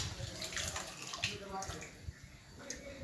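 Water pours and splashes into a pot of rice in uneven bursts, fairly close, with faint voices and clatter underneath.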